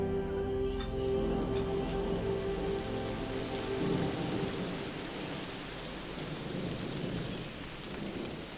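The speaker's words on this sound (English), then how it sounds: "For 3 days the rain fell incessantly, and it was also very cold." Heavy rain pours steadily with rumbling thunder in a documentary sound effect set on a cold, wet Chinese mountain, with a low hum fading after the first few seconds as the downpour continues.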